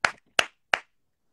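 Three sharp, close hand claps, evenly spaced about a third of a second apart, each crisp and dry with quick decay, heard alone against silence.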